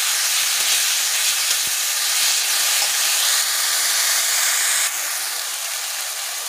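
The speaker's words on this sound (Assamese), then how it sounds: "শাকখিনি অকণমান ভালকৈ ভাজি ল'ম" Chopped leafy greens frying in a pan after onions, giving a loud, continuous close hiss of steam and sizzle that stays steady throughout, with a slight drop near the end.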